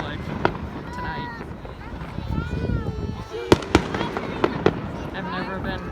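Fourth of July fireworks in 2020 pop and crackle in scattered sharp bursts, some near and loud, others distant, over a background of whistles and voices talking.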